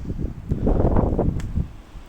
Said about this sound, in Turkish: Hem rüzgarlı hem karlı